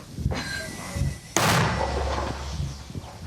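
One sharp, loud mortar launch blast close by, followed by a rumbling tail, after a softer earlier thump, in combat near Avdiivka.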